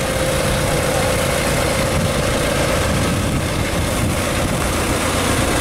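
A tracked Isagi TAC56 tractor engine idles close by, a steady, smooth low rumble with a constant hum and no change in pace throughout.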